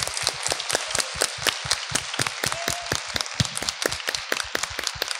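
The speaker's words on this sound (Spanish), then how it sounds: "Vuelvo a pedirles un aplauso muy fuerte aquí a los directores." An audience at a project presentation applauds the directors with dense, steady clapping that carries on throughout, with no speech over it.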